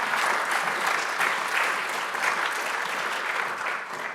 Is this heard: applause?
yes